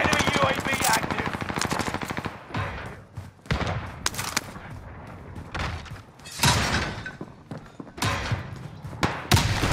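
A mounted gun turret in a first-person shooter fires long rapid bursts separated by short pauses, loud and close, with heavy thuds mixed in and no talk over the firing.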